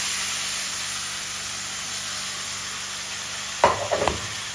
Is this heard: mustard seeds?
yes